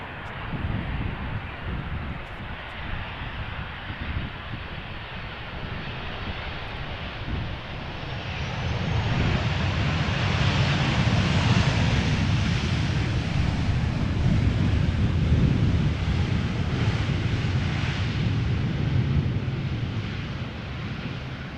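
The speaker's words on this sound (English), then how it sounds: "This is Transavia flight 5766. It is a 737-800 arriving from Girona in Italia." A 13-year-old Transavia Boeing 737-800 arriving at Amsterdam Schiphol in gusty crosswind roars in from a distance, its engine noise swelling steadily and staying loud and broad, with wind buffeting the microphone.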